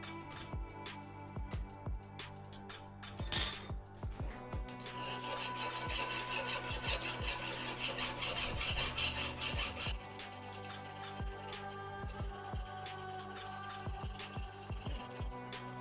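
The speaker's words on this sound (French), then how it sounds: "il ne manque plus qu'à faire les finitions, des petits coups de lime" A hand file rasps across forged metal while a wine rack gets its finishing touches, a steady scraping stroke that runs for several seconds between quieter taps and handling noises.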